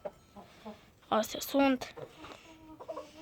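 Three hens cluck and a rooster calls out loudly in a couple of bursts, while a person speaks quietly in the background.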